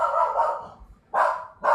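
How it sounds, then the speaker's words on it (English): A dog barks indoors in two or three sustained, fairly loud bursts with short pauses between them. "I bet she's barking"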